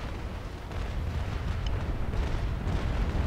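Naval cannon fire from gun decks in the Naval Action video game, a continuous rumbling barrage of heavy booms blending into a dense roar, steady and loud throughout.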